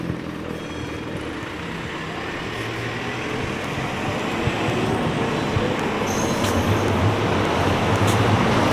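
Car traffic in Sheffield city centre, a continuous broadband road roar from passing vehicles that builds slightly louder over time, steady and fairly close with no distinct horns or voices.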